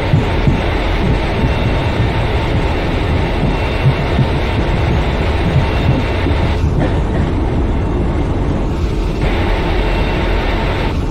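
The Gwalior–Ratlam Intercity express train rolls past, giving a continuous loud rumble and rhythmic wheel throbbing that carries on steadily, with a couple of brief shifts as coaches go by.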